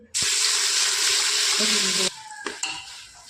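Green chillies frying in ghee for sabudana-potato papad batter, a loud, even sizzle that cuts off suddenly after two seconds, followed by a few clinks and stirring sounds close by.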